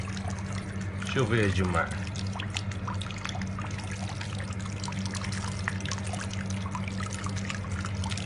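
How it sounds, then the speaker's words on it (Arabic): Hot water pours and splashes briefly over an apple being washed to strip its wax coating, followed by a steady, softer trickle, while someone talks throughout. "قاعد اغسل لكم الحين التفاحة بالماي الحار"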